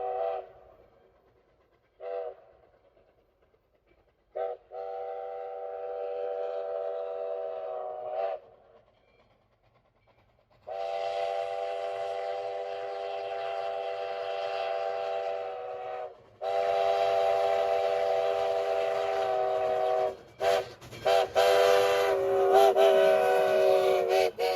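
An oil-burning steam locomotive on the Sugar Express sounds its whistle in repeated blasts, some short and some held for several seconds, loud and near, with the rumble and hiss of the engine under the later blasts.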